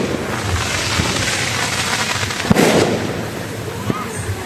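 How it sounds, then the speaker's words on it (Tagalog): Fireworks crackle and pop at a barangay outing at a resort, a dense continuous barrage with a sharper bang partway through, heard under people talking nearby. "Ay, may fireworks ka pa."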